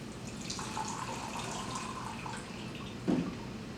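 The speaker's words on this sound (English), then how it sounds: "I have the same amount of water that I will pour in here." Water is poured onto a bare, unprotected soil sample without cover crop in a plant and soil science demonstration, a quiet continuous trickle and splash with a brief louder splash near the end.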